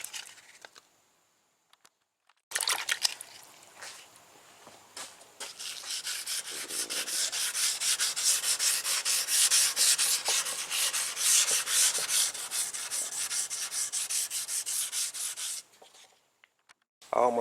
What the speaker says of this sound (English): So I'll take my sandpaper off my block. I'm not gonna use the block anymore. Just gonna do the rest by hand